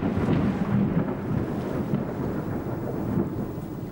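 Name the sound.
thunderstorm with thunder and rain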